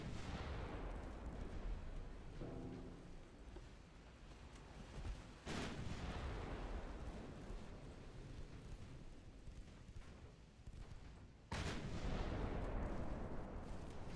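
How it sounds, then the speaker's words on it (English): Heavy 9-inch naval guns firing at a cruiser in Ultimate Admiral Dreadnoughts, deep booming blasts with long rumbling decay, two sharp salvos standing out over continuous battle noise. "these 9-inch guns do not play around. Just absolutely ripping this cruiser apart."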